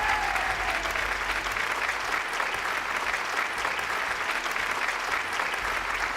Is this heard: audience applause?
yes